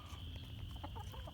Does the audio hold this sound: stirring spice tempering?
no